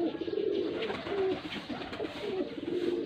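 A pigeon coos in soft, repeated low phrases at close range, a steady rolling call over faint background noise.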